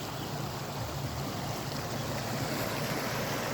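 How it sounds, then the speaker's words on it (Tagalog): A river runs into the sea at Bitadton Beach in Culasi, Antique, making a steady broadband rush of flowing water mixed with surf, constant and fairly near, with no voices. "narinig mo yung flow ng river"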